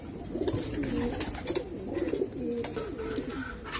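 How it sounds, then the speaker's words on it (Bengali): Female pigeons coo in repeated soft, rolling calls, close and overlapping, against a faint hiss with occasional clicks and no speech. "এইগুলা হলো ভিউয়ার্স মাদি কবুতর"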